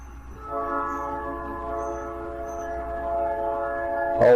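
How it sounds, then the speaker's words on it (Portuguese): A long, steady multi-tone train horn blares continuously for several seconds, fairly close, ending in a sharp clunk. "Olha o trem apitando aí,"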